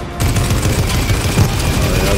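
Sustained automatic gunfire in the Fortnite video game, a dense loud continuous rattle of rapid shots lasting throughout with heavy low booms and no pauses.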